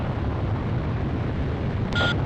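Bombing over a burning city in the video game Ace Combat Zero: The Belkan War, heard as a steady, dense low roar and rumble that barely changes, with a short electronic beep near the end.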